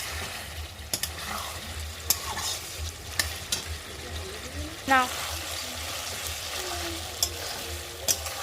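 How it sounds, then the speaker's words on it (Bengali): Beef curry sizzles in oil while a spatula stirs it, giving a continuous close frying hiss with regular scraping knocks and a brief wet slosh midway. A voice is faintly present. "নেড়ে চেড়ে নেবো ভালো করে দেখতে পাচ্ছেন খুব ভালো করে তেল ছেড়ে দিয়েছে"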